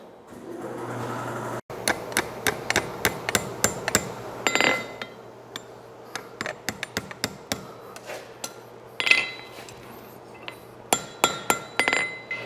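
Sharp metallic blows of a 4.5 pound cross peen hammer forge welding hot steel on an anvil ring out in irregular bursts, quick runs of strikes and pauses between, close and fairly loud with a faint steady hum beneath.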